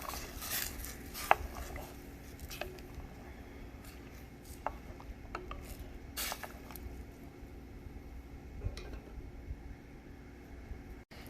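A spoon stirs a pot of homemade chicken noodle soup with herbs and vegetables, giving a few scattered, faint clinks and scrapes against a quiet background hiss, with no one talking.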